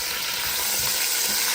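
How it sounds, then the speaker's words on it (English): Thick pieces of short rib brown in avocado oil, a steady, close crackling sizzle with no pauses. "now I'm browning it in avocado oil"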